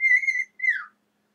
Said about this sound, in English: That's the wolf whistle, if you all can hear him.